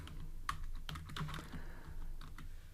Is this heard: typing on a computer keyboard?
yes